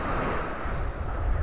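Rough surf breaks on the beach at North Naples, Florida, producing a steady, full rush of churning water and wind noise that carries on without pause and with no talking.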